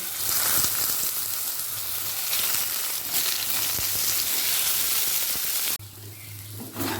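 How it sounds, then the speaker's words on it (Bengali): Potatoes sizzle and crackle steadily in hot white oil in a wok, a continuous close frying hiss that briefly dips and returns near the end, with no talking. "তেলটা দিয়ে আলুটাকে হালকা করে ভেজে নেবে"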